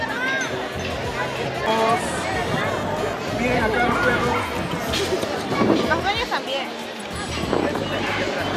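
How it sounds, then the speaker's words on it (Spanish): A Peruvian dog barking and yipping at a televised dog show. Loud talk and crowd noise from the show run throughout and partly cover the barks. "El perro peruano, Papi Junior."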